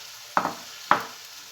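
Cake batter with flour is mixed in a bowl, two distinct soft wet slaps or scrapes spaced about half a second apart over a quiet background.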